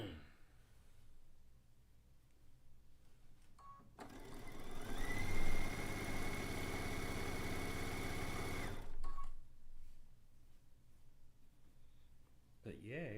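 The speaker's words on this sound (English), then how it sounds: "now we can stitch that down." A sewing machine stitching down part of a zig zag quilt top runs in one steady, moderately loud whir for about five seconds, with quiet talk and handling noise before and after.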